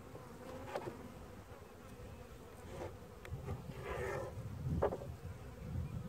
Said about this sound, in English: you see there's a bunch of bees all over that